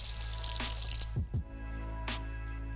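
Tap water runs into a kitchen sink as sauce is rinsed out while making spicy honey walnut shrimp, a steady close wash with a few brief splashy surges partway through.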